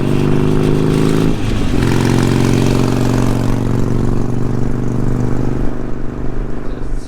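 A Harley-Davidson Sportster motorcycle engine runs close and loud with a deep, throbbing low rumble, surging briefly about a second in before settling back to a steady, heavy idle-like drone.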